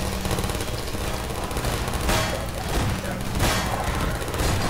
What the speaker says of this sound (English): long-distance shooting. From a turret.